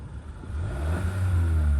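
A 2022 Kia K5 1.6L turbo engine with a BMS blow-off valve rumbles low and steady, its pitch rising slightly as it revs up, with some light mechanical clatter close by.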